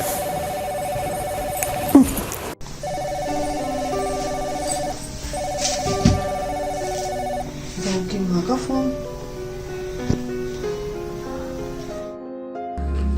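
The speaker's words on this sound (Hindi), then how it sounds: "फिर बज गया, किसका फोन आ रहा है बार बार।" Telephone ringing repeatedly indoors, a steady electronic ring pattern cycling several times with short breaks, loud and close, while a person mutters over it before it cuts off.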